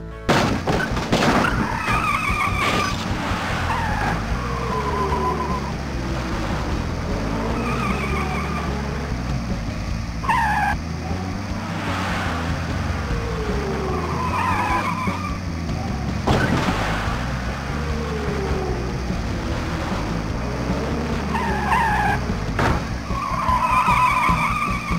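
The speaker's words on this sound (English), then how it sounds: "Contestants, start your engines." Cartoon race cars from Putt-Putt Enters the Race, with engines humming and revving in repeated up-and-down swells while tires squeal and skid again and again during the race, loud and continuous.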